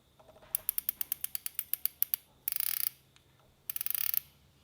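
Daiwa Saltiga fishing reel drag clicking in quick bursts: a run of distinct sharp ticks, then two dense rapid flurries, loud and close with no voices.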